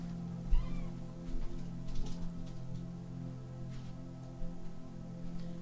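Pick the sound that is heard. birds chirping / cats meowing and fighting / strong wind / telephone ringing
cats meowing and fighting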